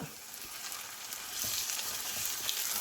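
Chopped large tomato drops into sautéed onions and sizzles in the pan, a soft frying hiss that swells louder partway through and holds steady.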